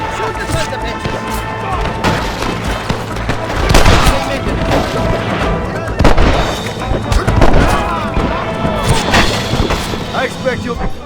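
Dense gunfire from the video game Red Dead Redemption crackles continuously with repeated heavy booming shots, loud and chaotic under a busy battle soundscape, with voices shouting over it.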